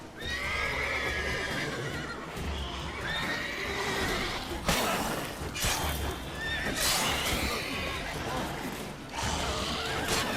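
A horse whinnies loudly in The Witcher 3: Wild Hunt over a busy backdrop of hooves and clanking, mechanical game sounds, with a couple of sharp bursts.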